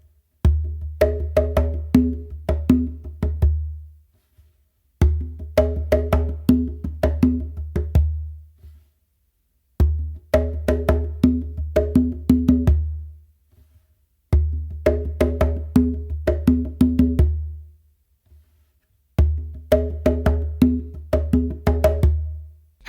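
A bingba hand drum plays a bomba/funk pattern with two open tones, repeated in five clear, loud passes separated by brief pauses, with deep booming bass strokes under crisp slaps and ghost notes.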